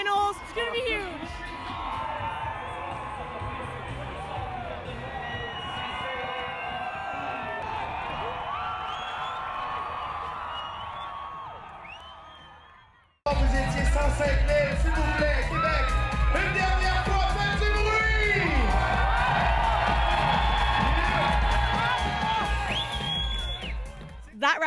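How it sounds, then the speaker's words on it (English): Raucous crowd noise at Red Bull Crash Ice in Quebec City, a dense roar of cheering and whoops carried by a large outdoor crowd for the whole stretch, swelling louder after a brief break midway, with voices mixed in. "it's Red Bull Crash Ice, and the crowd is absolutely nuts"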